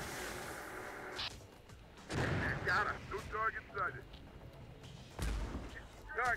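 Artillery fire in the video game Terminator Dark Fate Defiance, with several heavy booming blasts and rumbling impacts at moderate distance, mixed with game radio chatter and voices.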